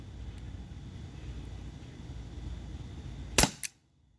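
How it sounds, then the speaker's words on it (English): Two sharp shots from a Glock 17 Gen 5 T4E .43 caliber training pistol, a loud crack followed a moment later by a second, fainter report, after a stretch of steady background hiss. "That was the last shot."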